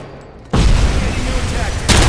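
Gunfire from the RoboCop: Rogue City video game erupts as a loud, dense burst that starts abruptly and rolls on continuously, briefly dipping before surging again, with faint game voices underneath.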